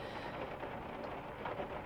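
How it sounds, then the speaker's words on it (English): Cold rain patters steadily on a car roof, a dense even wash of soft tapping heard from inside the car, with no voices. "this cold rain tapping against the roof of the car"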